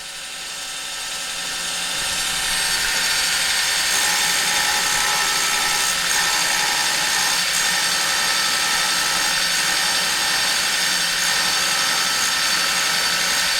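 A surface grinder wheel grinds across a magnetic chuck, giving a loud, steady, hissing grind that builds over the first two seconds and then holds constant with a faint machine hum beneath.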